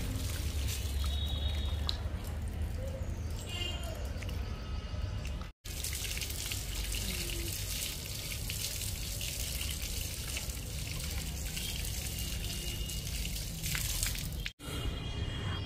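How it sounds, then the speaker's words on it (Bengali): Water runs steadily from a tap while Himsagar mangoes are washed, a continuous wet splashing and trickling that stays fairly constant throughout, broken only by two brief cuts. "আর বৌদি আমগুলো ধুয়ে দিচ্ছে।"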